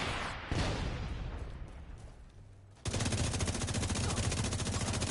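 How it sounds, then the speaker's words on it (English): An RPG rocket launcher fires in The Division 2 video game: a loud blast that decays into a rumbling roar, then a sudden sustained, rapidly rattling barrage of gunfire. "Firing an RPG."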